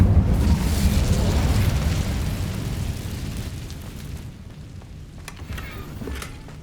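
An Incendio fire spell blast in the wizarding game Hogwarts Legacy, a loud roaring burst of flame that gradually fades into crackling, with a few faint sharp pops near the end.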